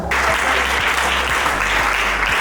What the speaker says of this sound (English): please stand up for recognition and clap for yourself